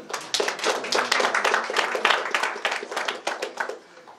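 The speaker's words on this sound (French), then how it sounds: "Vous pouvez l'applaudir." An audience applauds at the official draw of a European schools badminton championship, with dense, steady clapping from many hands, fairly close and continuous throughout, with no speech over it.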